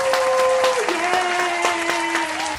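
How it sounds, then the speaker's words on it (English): Clapping for a weightlifter's hard set in a gym: a short run of sharp, steady handclaps from a small group, with a tonal hum underneath. "You didn't clap for Billy over there."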